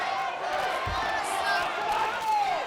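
Wrestling crowd at an anniversary show chanting in unison, a loud roaring mass of voices filling the whole stretch with rhythmic swells and a sharp clap or slam partway through.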